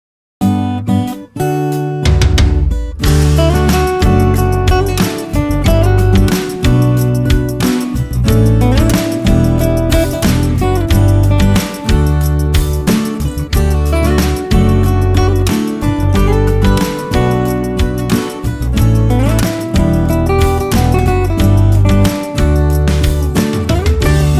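Layered acoustic guitar mix with lead line and a steady drum kit groove, loud and full throughout, with no voices.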